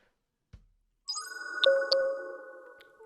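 A phone ringtone plays during an outgoing call in Minecraft, a short electronic tone pattern with bright ringing pulses that follows a soft tap after a brief pause, clear and close.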